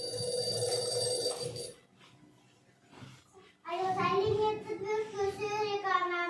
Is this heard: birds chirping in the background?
no